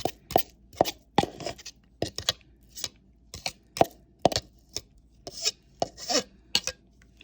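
Lamb shoulder meat is chopped by hand on a board for a bestel dish, giving a run of sharp, close knife strikes spaced irregularly with brief scraping between them. No one speaks.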